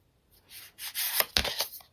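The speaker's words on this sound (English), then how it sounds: "One more shuffle." Tarot cards shuffled by hand at close range, a soft papery riffling and rubbing in several uneven bursts with a sharper slap near the middle, no talking.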